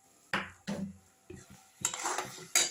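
A spoon stirs sugar into milk in a pan, knocking and clinking against the metal in a handful of sharp, close hits, with brief scraping between them.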